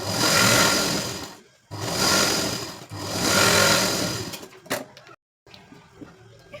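A sewing machine stitches a four-tuck blouse, running in three loud steady bursts of rapid mechanical whirring separated by short stops, followed by a few quieter clicks and handling sounds.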